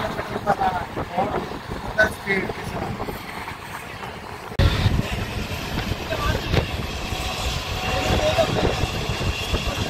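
The Karakoram Express running fast between Lahore and Faisalabad, heard as a steady, loud rush of rumbling wheels and wind, growing harsher and denser partway through.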